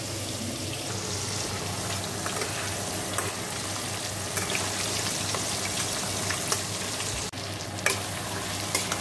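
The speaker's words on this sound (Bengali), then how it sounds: "দেখো মাংসটা দিয়ে দিয়েছি, আর কষে নিচ্ছি" Mutton fries in a pan, filling the clip with a dense, steady sizzle and crackle, punctuated by occasional stirring clinks and scrapes, close and loud without any talk.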